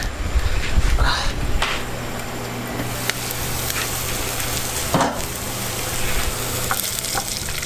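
Garlic cloves, four of them, frying and sizzling in a pan on a home stove, with steady crackling hiss throughout and a few utensil clinks and stirring scrapes near the start and around the middle.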